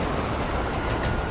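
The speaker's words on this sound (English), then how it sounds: "Oh fuck, the train is right there." A train in GTA 5 rumbles past at close range with a dense, continuous roar of wheels and rail noise. It fills the whole moment without a break, and no voices are heard.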